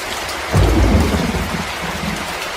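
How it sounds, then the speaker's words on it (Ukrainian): Steady rain pours over a broad hiss, and a deep rumble of thunder swells partway through and lingers. "звук дощу"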